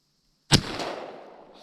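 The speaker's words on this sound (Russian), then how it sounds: "И стреляем в правую мишень по нашей уточке." A single sharp report from a 1958 IZh Olen 32-gauge shotgun loaded with 22 grams of shot and card wads, fired at a duck-shaped target, loud and close, with a long rolling echo decaying afterward.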